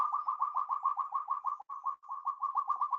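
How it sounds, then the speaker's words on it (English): Rapid, repeated hooting notes from a gibbon in a fast rhythmic series, a whooping call repeating about eight times per second with a brief break midway. "This is the call of the gibbon."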